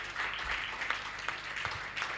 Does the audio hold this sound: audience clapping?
yes